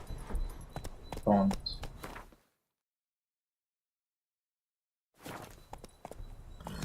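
Roach, the horse in The Witcher 3, moves with hoof clops and footsteps under a man's speech, cut by a few seconds of total silence before the hooves and talk resume.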